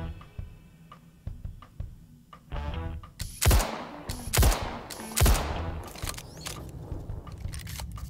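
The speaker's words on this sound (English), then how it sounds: "why not use the frag pistol, right? Trusty old frag." Frag pistol gunfire in the Star Citizen video game: three sharp, loud shots spaced about a second apart, surrounded by softer clicks and ticking game sounds, with no talking.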